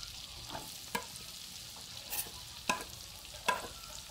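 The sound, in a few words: garlic frying in melted butter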